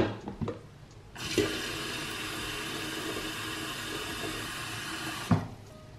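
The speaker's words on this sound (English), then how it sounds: "First things first is refilling this humidifier with some more water." Water runs steadily into a humidifier being refilled, a continuous rushing pour lasting about four seconds, close and fairly loud, with small clunks at the start and end.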